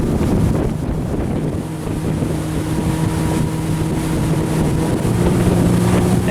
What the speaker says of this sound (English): I don't feel good about how the motor's operating right now. She's not sounding the best.